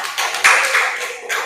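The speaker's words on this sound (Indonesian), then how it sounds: "Tepuk tangan untuk kelompok 3." A class of students briefly applauds a student group, a short, dense patter of many hands clapping at close range.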